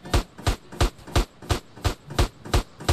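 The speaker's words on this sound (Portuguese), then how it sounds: "Eu tô ouvindo tiroteio." Regular gunshots from a firefight in GTA San Andreas, about nine evenly spaced heavy thuds over three seconds, loud and close with no talk.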